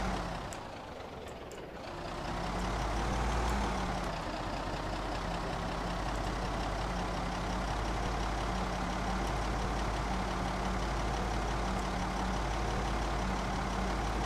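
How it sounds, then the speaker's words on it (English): A vehicle engine in Project Zomboid drones loud and steady close by, rising in a brief revving swell early on, then holding a constant low rumble with a faint repeating tone over it, no one talking. "The engines are so loud"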